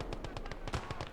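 Maxim machine gun firing in a modded war video game, a rapid steady burst of heavy, closely spaced shots with no pauses.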